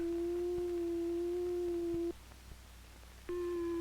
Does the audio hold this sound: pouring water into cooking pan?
no